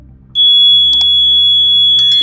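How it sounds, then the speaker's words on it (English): A homemade PIR intruder burglar alarm switches on with a sudden, loud, piercing continuous tone that holds steadily, with a couple of brief clicks along the way. "It will make an alarm to alert you that there is an intruder that has encroached into your premises."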